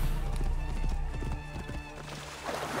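Horse hooves from Assassin's Creed Origins beat in a fast gallop for the first half, then thin out as the steady game soundtrack carries on beneath.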